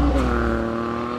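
Ford 1.5-litre three-cylinder engine in a Morgan Super 3 three-wheeler firing up, a loud steady mechanical drone with strong low harmonics and a slight surge at the start, heard alone and close.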